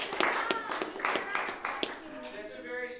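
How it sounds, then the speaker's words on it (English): A few scattered handclaps from a small group, sparse and uneven, with voices talking over them. "That's a very small round of applause."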